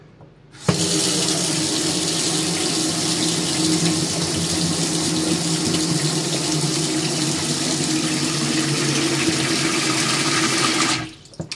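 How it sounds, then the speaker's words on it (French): Steady rush of water running from a kitchen tap into a clogged sink, loud and close, starting abruptly and stopping just as suddenly after about ten seconds, with no talking. "je vais faire couler un petit peu d'eau"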